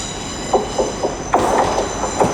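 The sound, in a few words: Transpennine Express train arriving at Leeds station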